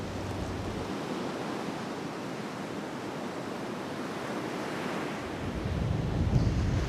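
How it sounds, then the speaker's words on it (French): Steady roar of Atlantic surf and gusting wind buffeting the microphone on a beach at Les Sables d'Olonne, France, growing louder toward the end, with no voices. "on va être beaucoup plus exposé au vent et aux vagues"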